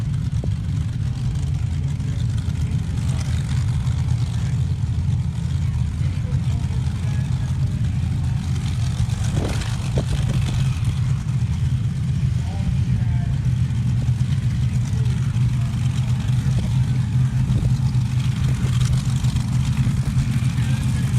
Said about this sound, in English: First time out in top Eliminator with this small block Chevy power dragster